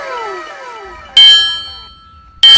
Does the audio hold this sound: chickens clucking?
no